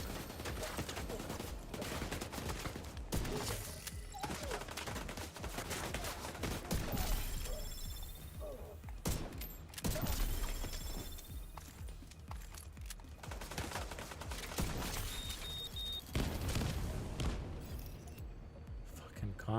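Near-constant gunfire in the video game The Division 2, with bursts of rapid shots and sharp cracks. A voice talks over the sustained, fairly quiet firefight.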